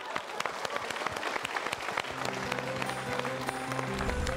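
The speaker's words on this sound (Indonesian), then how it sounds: "kita berikan tepuk tangan dia" An audience at a motivational talk show gives a round of applause, a fairly quiet, steady patter of many hands clapping, heard from a distance, with a low hum entering near the end.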